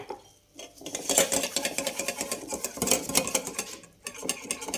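Spoon stirring semolina batter for revani in a bowl, a steady run of close scraping and clinking strokes with short pauses, no talk.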